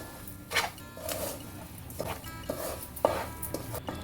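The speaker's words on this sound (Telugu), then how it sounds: "బాగా కలుపుకోవాలి. షుగర్ కరిగే వరకు కలుపుకోవాలి." A spoon scrapes and stirs mango halwa with sugar in a pan, giving a few distinct scraping strokes over a soft continuous rustle, close and moderately loud with no talk.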